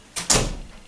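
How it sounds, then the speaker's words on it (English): An indoor door is pushed shut in a home, a soft swing and then a firmer close, heard alone at a moderate level with a short fading tail. "We just shut this door."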